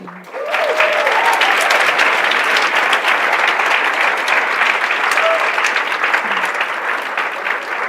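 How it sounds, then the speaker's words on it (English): A festival panel audience applauds loudly and steadily for several seconds, a dense wash of clapping that begins abruptly and fades slightly near the end. "please, an applause for them"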